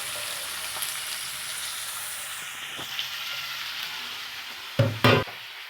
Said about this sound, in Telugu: తర్వాత చికెన్ వేసుకోవాలి.